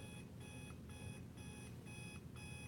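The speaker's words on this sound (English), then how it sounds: "When's the last time you've heard an alarm clock go off?" An alarm clock going off in repeated bursts of high, bright beeping, about six evenly spaced pulses, heard over a low, busy room murmur.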